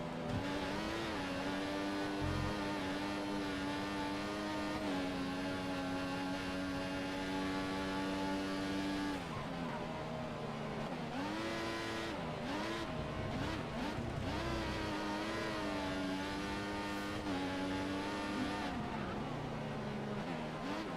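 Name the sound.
F1 race car engine in F1 2014 video game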